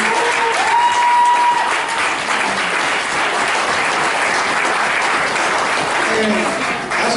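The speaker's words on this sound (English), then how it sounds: "can we get a round of applause for myself?" An audience at a community Cinco de Mayo event claps loudly and steadily for several seconds, a dense wash of applause with crowd noise mixed in.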